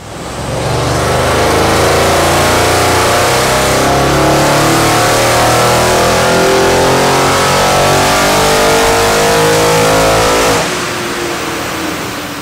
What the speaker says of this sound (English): We've just dyno tested the RS6.